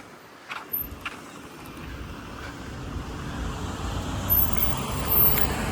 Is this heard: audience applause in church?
no